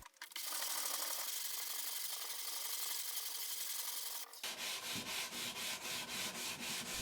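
A wooden mitered box is hand sanded up close, first with a long steady rasping rub, then with quick, even back-and-forth strokes repeating in a regular rhythm.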